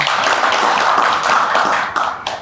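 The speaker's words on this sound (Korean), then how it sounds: "최인창 본부장님께 다시 한번 감사의 박수 부탁드립니다" Audience applause at a 2024 hazardous materials industry policy seminar in Korea, honoring a presenter: a dense, steady wash of many hands clapping at close range, continuing without voices and thinning slightly toward the end.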